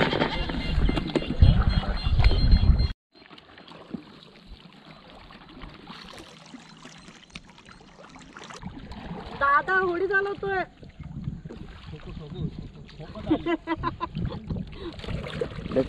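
Coracle ride on Sanapur lake near Hampi, with water lapping and splashing against the round boat, paddle strokes and movement under frequent talk from people aboard.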